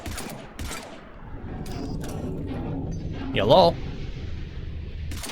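Gunfire and small enemies blowing up in the video game Mass Effect, a burst of crackling shots and pops with a voice over the action.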